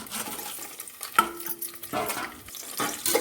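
Spices dropped into hot oil for mutton biryani, crackling and stirring in a pan with scattered sizzles and a brief bright clink of a utensil, moderately close with no talk.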